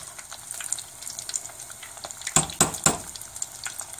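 Prosciutto and provolone arancini rice balls fry in hot oil with a continuous soft sizzle, broken by a few louder splashy crackles as a ball is flipped.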